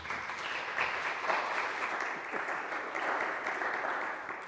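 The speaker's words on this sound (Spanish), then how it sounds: "pedir a todos los que estáis aquí pues, un aplauso de bienvenida para ellos" A seated audience at a Spanish-language talk gives a round of welcoming applause for the speakers, sustained and even across the moment, moderately distant, with no voice over it.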